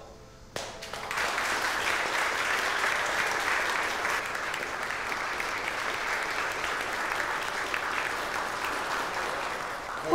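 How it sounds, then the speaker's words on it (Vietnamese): Soldiers in a platoon break into sustained applause and cheering, a dense, steady wash of clapping that starts abruptly and keeps going at a fairly even level. "Chúng ta cùng cổ vũ cho Quốc Đắc nào"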